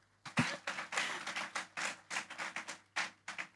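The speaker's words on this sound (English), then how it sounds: "Yes, you may clap." A graduation crowd at Elmore Stoutt High School claps in short uneven bursts, a thin scattered patter of hands that swells and breaks off repeatedly over a faint low hum.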